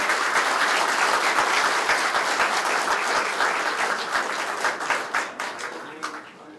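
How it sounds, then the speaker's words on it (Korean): Large crowd at a Democratic Party central committee meeting claps loudly and steadily, dense sustained applause that gradually thins and fades toward the end. "큰 박수 부탁드리겠습니다."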